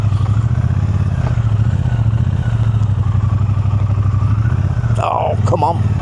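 A Triumph Bonneville motorcycle engine idles close by with a loud, steady, throbbing pulse that continues throughout, joined near the end by a brief squeaky mechanical sound.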